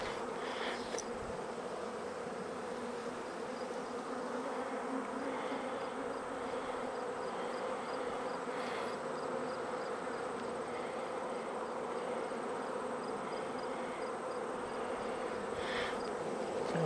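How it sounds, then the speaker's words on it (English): Honey bees swarm around an open beehive, their dense, steady buzzing close and continuous with individual insects droning past now and then. "Shake the bees off."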